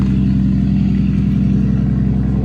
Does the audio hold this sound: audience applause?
no